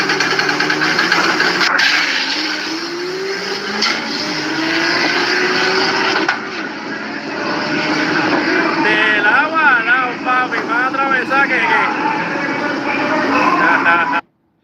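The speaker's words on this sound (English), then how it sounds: "A Toyota T200 with a Toyota Supra Mark IV 2JZ." A Toyota T200 truck fitted with a Toyota Supra Mark IV 2JZ engine revs and drones, its pitch rising and falling over several long pulls, loud and near before cutting off abruptly at the end.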